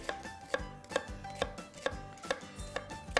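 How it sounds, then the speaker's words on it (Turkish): A knife chops an onion steadily on a cutting board, about eight crisp thuds in a regular rhythm, close and clear with no talking. "Soğanı yemeklik doğradım."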